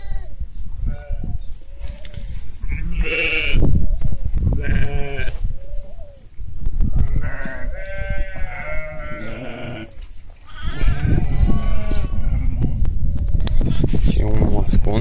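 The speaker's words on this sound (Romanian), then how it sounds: "Ăștia sunt ultimele oi care sunt fătate." Sheep and newborn lambs, among the last ewes to give birth on a farm, bleat repeatedly in layered, fairly close calls, with human voices talking over and between them.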